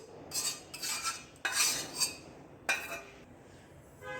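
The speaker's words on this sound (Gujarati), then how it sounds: "આ મિશ્રણને પ્લેટમાં કાઢી લઈશું." Hot sukhadi mixture being scraped and transferred onto a plate, a run of metallic clinks and scrapes of a utensil against a pan and plate, several separate bursts in an uneven rhythm.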